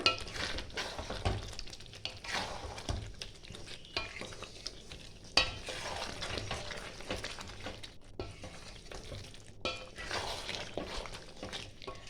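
Chicken bhuna is stirred and fried in a pan with no water added, soft sizzling under repeated scraping and clinks of a utensil against the pan, close and fairly quiet.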